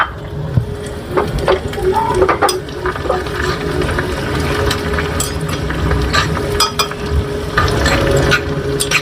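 Garlic, dried red chilies and small shallots fry in hot oil in a pan for a mixed-vegetable fish curry, a dense continuous sizzle and bubbling with occasional stirring clicks, loud and close throughout.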